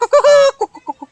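A human voice imitates a frightened hen's alarm clucking: one long, strained squawk followed by four short, sharp clucks in quick succession, loud and close.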